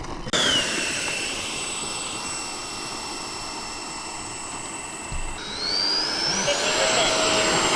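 A small RC model airplane engine whines steadily overhead at an airfield, its high pitched drone holding level and then rising as it throttles up, with faint outdoor background underneath.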